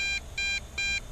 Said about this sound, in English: What's she beeping for? Now, is that a battery thing?